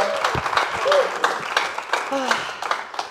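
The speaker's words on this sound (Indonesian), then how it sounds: "Tepuk tangan buat Jerry dong" Applause from a live comedy roast audience, scattered clapping mixed with cheering voices and talk over it.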